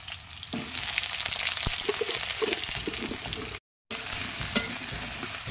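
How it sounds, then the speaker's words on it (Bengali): Potatoes fry in hot oil in a kadai with a steady, close sizzling hiss and faint stirring. The sound cuts out briefly near the end, then resumes. No one speaks. "তেলটা গরম হয়ে গেছে, আমি আলুগুলো দিয়ে দেবো।"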